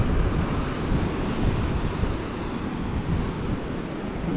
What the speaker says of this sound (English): Look at that ocean.